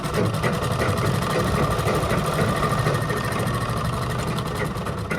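A sewing machine runs steadily, stitching a kurta made from a dupatta, a continuous close mechanical whir with a rapid needle rhythm throughout.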